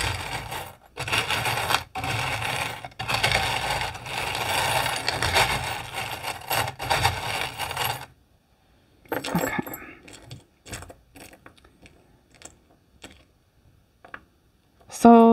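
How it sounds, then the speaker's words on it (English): Metal charms jangle and clatter loudly in a dense shuffling burst for several seconds, then scattered lighter clinks and taps follow more quietly. "turn down your volume while I shuffle the charms"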